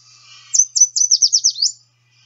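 A yellow warbler sings its sweet, bright song: a rapid series of about seven high, clear slurred notes run together in a quick rising phrase, close and alone, then silence.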